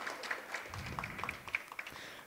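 Applause from the audience at a graduation ceremony for technology graduates at a Colombian technical school: scattered, fairly faint clapping with a few sharper nearby claps and some low background murmur.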